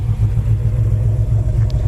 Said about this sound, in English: Dual exhaust sounds good coming out the back